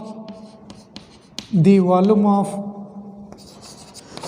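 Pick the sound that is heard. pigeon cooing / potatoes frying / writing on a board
writing on a board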